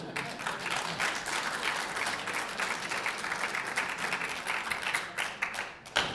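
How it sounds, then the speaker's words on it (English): Audience applause at a 2012 91st District candidate forum, steady broadband clapping from a seated crowd lasting about six seconds, fairly distant in a hall, with a few sharper individual claps near the end. "We're going to ask the audience not to remember, no applause until the end."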